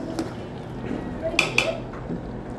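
Beef curry with potatoes being stirred in a cooking pot, a spoon scraping and knocking against the metal in a couple of bright clinks amid softer shuffling, close up.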